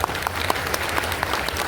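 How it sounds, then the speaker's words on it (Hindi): A class audience at a Python programming lesson breaks into brief, dense applause, many hands clapping together in a steady close wash. "इनके लिए जोरदार तालियां हैं"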